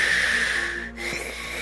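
A voice imitates heavy breathing, a long hoarse airy exhale followed by a shorter breathy rasp, close to the microphone and fairly loud.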